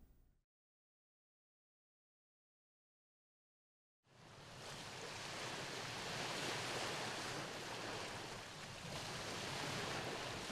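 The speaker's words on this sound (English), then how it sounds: "As waves off of Lake Superior gently break onto the sandy beach of Frog Bay Tribal National Park" Gentle waves from Lake Superior wash onto the sandy beach at Frog Bay Tribal National Park, a steady surf wash starting after a few seconds of silence and rolling continuously, fairly close and even.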